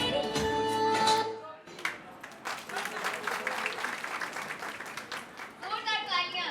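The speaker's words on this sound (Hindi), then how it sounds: "जोरदार तालियां।" Loud applause rises at a 25th wedding anniversary celebration, following a stretch of amplified music. The clapping stays dense and continuous, and a voice speaks over it toward the end.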